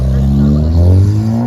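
Car with an upgraded turbo revs hard at a cars and coffee meet in Warwick, Rhode Island, engine pitch climbing steadily in a loud, close, rising whine over the short burst.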